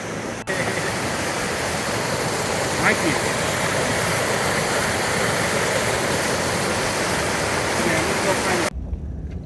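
Flowing stream water along the Pacific Crest Trail rushes steadily and loudly up close, a continuous broadband wash that cuts off abruptly near the end.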